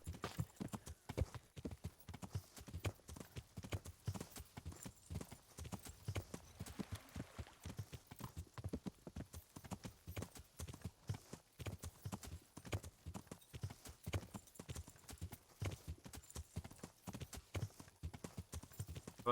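Steady clip-clop of horse hooves during riding in the video game Kingdom Come: Deliverance, a fast, even rhythm of soft thuds that continues throughout, fairly faint, with no talk over it.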